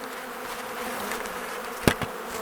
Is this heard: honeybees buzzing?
yes